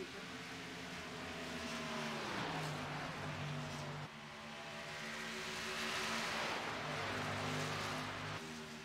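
Race cars roaring around the Indy oval in a sim racing game, engines whining loud and steady with rising and falling pitch as cars pass and draft close together, no voices over them.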